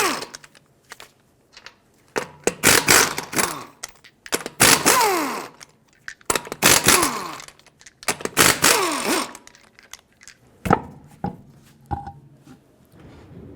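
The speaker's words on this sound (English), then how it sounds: "Take a 19mm socket, remove all 5 of your lug nuts" A 19 mm socket on a power tool spins off the lug nuts of a 2008-2020 Dodge Grand Caravan front wheel: several loud, close bursts of whirring and rattling, each a second or two long, separated by pauses.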